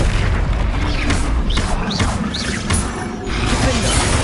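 Spell explosions in the video game Hogwarts Legacy, a loud, continuous barrage of booming blasts and mechanical clatter with rising whooshing effects and faint voices.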